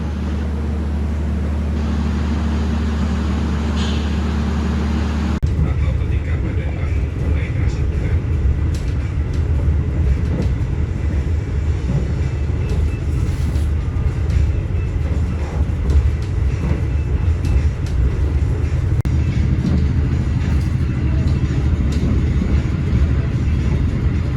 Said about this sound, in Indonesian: Di jalur 2 stasiun Blitar terdapat kereta api Singasari